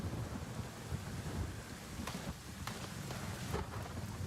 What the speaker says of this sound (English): And those storms are loud.